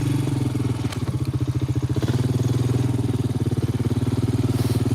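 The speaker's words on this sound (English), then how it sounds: "the old 4-wheeler might run away if I ain't careful the way it sounds" An old four-wheeler ATV idles fast and rough nearby, a loud, steady pulsing engine drone with rapid regular beats throughout, heard alone without talk.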